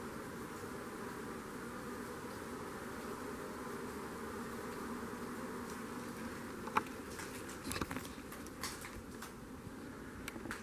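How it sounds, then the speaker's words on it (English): A constant soft buzzing of bees' wings hums close by in an abandoned WWII Marine air base, with occasional light taps and rustles toward the end. "I love the sound of the bees' wings fluttering."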